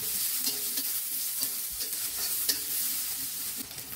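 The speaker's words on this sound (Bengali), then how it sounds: "অন্য একটা কড়াইয়ে আমি এবার সয়াবিন তেল দিয়ে তাতে আস্ত কাঁচামরিচ ও পেঁয়াজ কুচি দিয়ে নাড়াচাড়া করে নিব" Green chillies, chopped onion, garlic and ginger frying in soybean oil in a wok, a steady close sizzle with light scraping stirs throughout, no voices.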